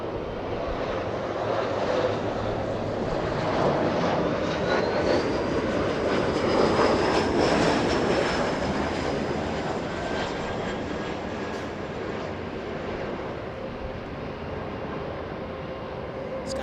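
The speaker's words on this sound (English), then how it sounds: "Skywest 3592 flying in from Sacramento, California. 1 hour, 2 minutes of flight time. A good old Embraer E175." A SkyWest Embraer E175 arrives at Los Angeles International Airport, its jet engines a broad, steady roar that swells and fades gently, with a faint rising whine through the middle.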